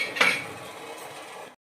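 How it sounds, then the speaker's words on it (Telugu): A lid goes onto a cooking pot of water heating for upma with a single close metallic clink, and its ring fades over about a second before cutting off. "మూత పెట్టేద్దాం."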